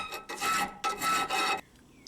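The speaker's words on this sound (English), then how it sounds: "a little work with a file to make this hole round enough to fit over the caliper" A metal file rasps against a steel bracket, rounding a hole to fit over a Chevrolet Cruze brake caliper, in three close, loud strokes with brief pauses between them, followed by quiet.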